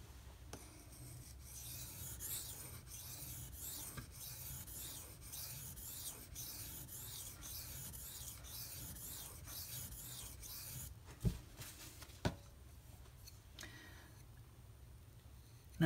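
An S90V steel knife blade is stroked back and forth across a whetstone for burr blending, giving a steady, close, continuous scraping rasp with a couple of sharp clicks near the end.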